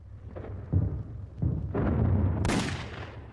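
Deep, rumbling explosions from a World War II bombing raid on aircraft lined up at Clark Field in the Philippines, several heavy booms in quick succession that build into a loud, sustained roar.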